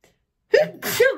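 A single loud sneeze, close up, a sharp intake followed by a forceful burst, after a moment of silence.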